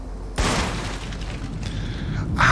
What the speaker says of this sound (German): hier kann ich was explodieren lassen wieder.